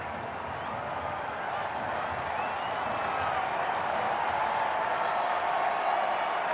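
Baseball stadium crowd at a Yankees vs White Sox game, a steady roar of cheering and chatter with the bases loaded, continuous and fairly loud throughout, with a broadcast voice faintly present.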